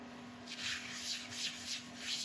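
Abrasive paste rubbed by hand onto a turned wooden piece, a soft, steady rasping friction in repeated strokes, fairly quiet and close, with no talking.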